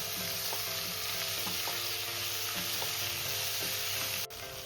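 Pumpkin pieces frying in a pan over a medium flame, a steady dense sizzle with faint crackles and light stirring taps throughout, cutting off briefly near the end.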